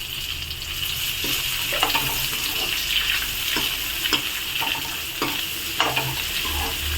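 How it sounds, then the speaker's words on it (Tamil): Steady sizzling of bitter gourd frying in oil, with regular scraping and stirring strokes from a spatula, close up and continuous. "பாவக்காவை நல்லா சுருளை வதக்கிக்கோங்க"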